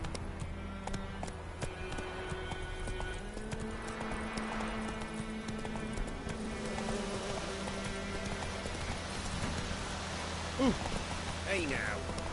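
Roach, the horse in The Witcher video game, trots with steady clip-clop hoof beats alongside rain patter and a low ambient drone, moderately loud throughout.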